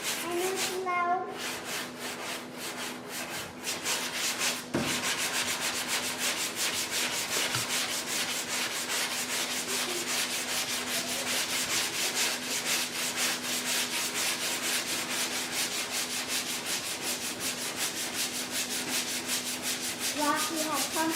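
An auto body panel is sanded by hand with guide coat and a block, giving long continuous rasping strokes that run steadily for about twenty seconds after a brief knock near the start.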